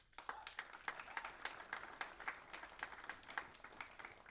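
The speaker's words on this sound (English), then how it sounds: "feel free to give each of the nominees a round of applause" Applause for nominees at the 2023 Curtin Sports Awards ceremony: faint, scattered hand claps from a modest audience, a loose irregular patter of distinct claps heard from a distance with no talking.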